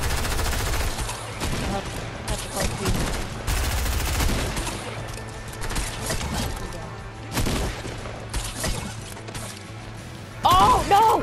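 Video game gunfire comes in dense, rapid bursts of loud shots and booms, near and repeated across the stretch. A brief pause falls in the middle, and a sharper crash lands near the end.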